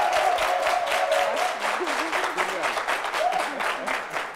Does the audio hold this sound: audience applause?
yes